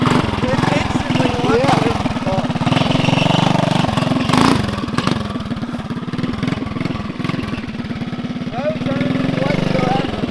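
Small engine of a 1970 Bird mini bike chugging and revving close by, a rough pulsing putter that swells and eases, with people talking over it.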